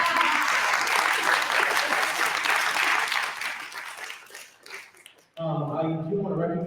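An audience at a Scrabble championship applauds, a dense round of clapping that holds steady and then thins and fades out, followed by someone speaking.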